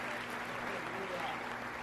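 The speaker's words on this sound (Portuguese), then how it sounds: "Você tem que aplaudir Jesus, porque Ele é maravilhoso" A church congregation applauding, a dense wash of clapping from a crowd, under a speaking voice.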